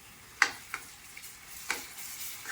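Ginger paste frying in oil in a pan for mutton curry, with a steady faint sizzle broken by a few sharp scrapes and knocks of a spoon stirring, quiet and close, with no talking.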